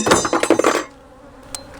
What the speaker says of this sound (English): there's bees up on me right now. They are pissed.